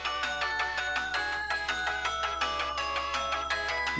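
Daru's phone ringtone in the visual novel Steins;Gate 0 plays on as a busy, bright electronic melody of rapid repeating notes. It is steady, close and fairly loud, and nobody speaks over it.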